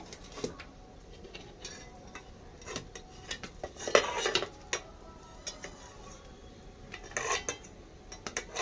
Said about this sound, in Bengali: কড়াই চাপিয়ে দিলাম আবার হাঁড়িটা নামিয়ে কড়াইটা চাপিয়ে দিলাম